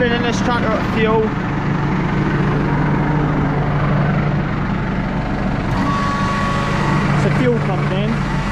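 Farm tractor engine idling steadily on hilly hay ground while its tank is refuelled, a constant low rumble running throughout with a few faint beeps and someone speaking nearby.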